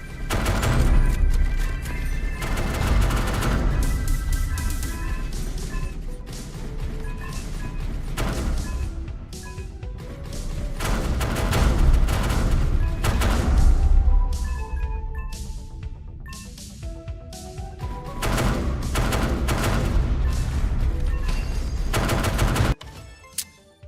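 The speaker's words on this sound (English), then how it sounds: "So we have one autocannon that does damage if they're closer and one autocannon that does damage if they're farther." Autocannons fire in a space combat survival arena game, Starforged Legacy, making dense rapid bursts of shots that run almost without pause and are loud, with no speech over them.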